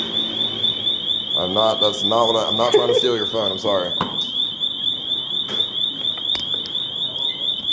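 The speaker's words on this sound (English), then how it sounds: "instead the alarm's going off" An alarm on a phone charging station at a bar, set off when it is unplugged, holds a loud, steady, high-pitched tone throughout, with someone talking over it early on.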